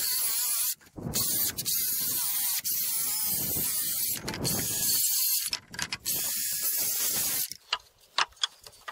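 Screws driven into 2x2 lumber for concrete column cap forms for stone gate pillars, a loud, close, sustained whir of a driver in several long bursts with short pauses, ending in a few sharp clicks.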